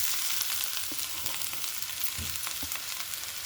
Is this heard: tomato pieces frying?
yes